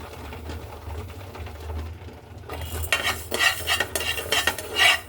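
Rice being stirred and fried in a pan with a spoon, first a low steady hum, then brisk scraping and sizzling strokes that grow louder and more rhythmic.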